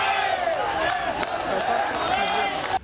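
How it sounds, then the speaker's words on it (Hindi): A dense crowd in a funeral procession for a fallen army colonel, many carrying the Indian tricolour, keeps up a continuous wash of clapping and chanted slogans alongside the body, loud and steady until it cuts off near the end. "लोग तालियां बजाते और नारे लगाते हुए"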